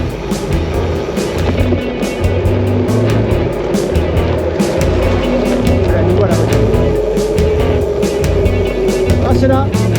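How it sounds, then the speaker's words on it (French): Oncoming car passing on a night road, heard from a gravel bike ridden at night in freezing cold, a broad rushing swell of tyre and engine noise under heavy wind buffeting, with a voice speaking over it. "Voiture en face."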